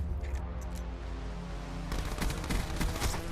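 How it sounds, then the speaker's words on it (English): Rapid automatic fire from a KAP 45 fully automatic pistol in Black Ops 4, a dense burst of shots starting partway through after a quieter stretch, fairly loud and close. "the KAP 45 is the fully automatic pistol"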